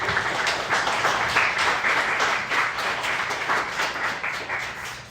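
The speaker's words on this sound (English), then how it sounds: "Round of applause." Meetup audience in Toronto applauding, a steady, dense round of clapping from a crowd filling the room for about five seconds.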